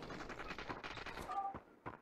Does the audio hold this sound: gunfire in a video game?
yes